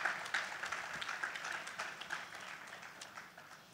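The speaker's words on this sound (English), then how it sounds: "Please, let's give her a round of applause." A seminar audience applauds, a soft, dense patter of many hands clapping at once that fades gradually over a few seconds.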